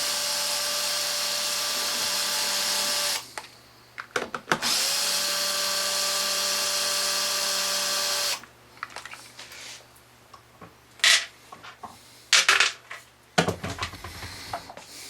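A power drill unscrews the 5/16 bolts from the casing of a Honda EU2000i generator. Two long, loud steady whines are broken by a brief pause, then short bursts and clicks follow as the tool stops and restarts close by.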